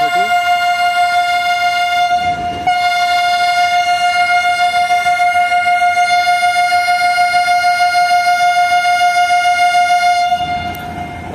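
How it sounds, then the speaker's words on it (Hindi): A Pakistan Railways AG30 locomotive sounds a long, loud, sustained departing whistle at Rohri Junction, one steady tonal blast lasting several seconds, close by, with station and rail noise around it. "और ये AG30 ने अपना डिपार्टिंग विसल ले लिया है।"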